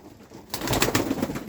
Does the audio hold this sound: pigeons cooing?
yes